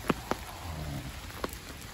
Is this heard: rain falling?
yes